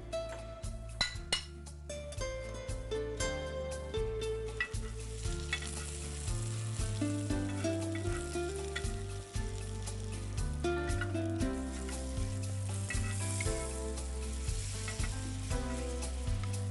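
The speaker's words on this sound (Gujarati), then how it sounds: "કેટલી શેકીએ છે? હલકો ગોલ્ડન બ્રાઉન મળે ત્યાં સુધી." Potato tikki patties fry in butter on a pan for a burger, giving a steady, close sizzle with occasional scraping and clinks of a utensil, over a continuous tonal background.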